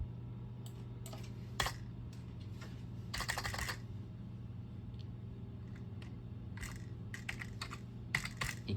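Fingers type on a computer keyboard in scattered bursts of quiet, crisp key clicks over a low steady room hum.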